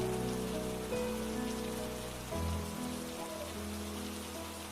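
Rain falls steadily on a rainy day at a cremation-ground office, a soft, even hiss that lasts throughout, with sustained musical tones underneath.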